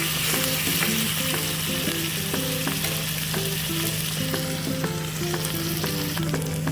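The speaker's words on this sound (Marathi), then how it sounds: "मिरची लसूणची पेस्ट आता फ्राय झालेली आहे." Green chili, garlic and ginger paste fries loudly in a pan, with a dense continuous sizzle. Light rhythmic stirring taps run through it and a low hum sits underneath, with no talking.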